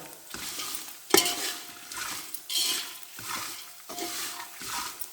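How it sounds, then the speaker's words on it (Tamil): Garlic fries in hot oil for kara pori as a spoon stirs the pan; a continuous sizzle is broken by repeated scraping strokes, with one sharp clack near the start, loud and close. "இந்த மாதிரி வறுத்து எடுத்துட்டு பூண்டு பச்சை வாடை போன பிறகு"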